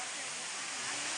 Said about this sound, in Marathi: पाऊस बंद झाला तरी पण अजून धबधबा चालू आहे.